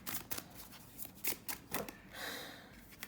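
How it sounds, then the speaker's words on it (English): Romance angel oracle cards shuffled and drawn by hand, heard close and quiet as a run of quick papery riffles and flicks, then a softer swish. "I'm gonna pull in some romance angel cards"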